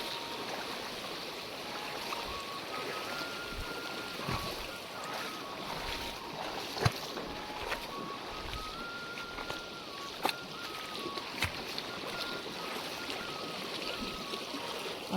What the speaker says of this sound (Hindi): तो ये वाली नदी थोड़ा सही है, यहाँ से आराम से पार चले जाते हैं।